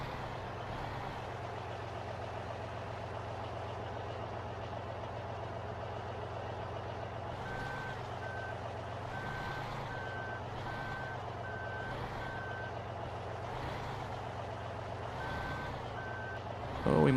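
A truck in Farming Simulator 15 backs up with a low diesel idle droning throughout. Steady, evenly spaced reversing beeps start partway through and keep repeating, and no speech is heard.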